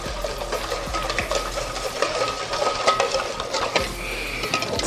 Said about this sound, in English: Just gonna give it a little mix.